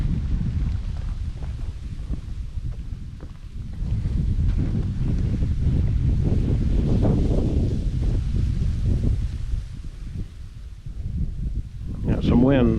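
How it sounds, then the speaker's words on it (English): Wind gusting outdoors at a state park near a bridge, a steady rumbling buffet across the microphone that swells in the middle, with brief voices and movement near the end. "Got some wind too."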